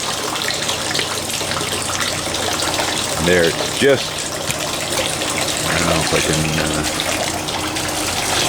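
A garden water feature runs at full flow, its stones and small tray sitting in the water, giving a steady broadband wash that continues beneath someone talking close by.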